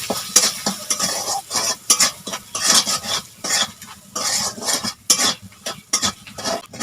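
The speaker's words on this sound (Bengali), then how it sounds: "দিয়ে মশলাটা কষিয়ে নেবো ভালো করে" Turmeric-and-salt spice paste stir-fried in a pan for a prawn and ash gourd dish, with steady sizzling and repeated scraping strokes of a spatula against the metal, close and fairly loud.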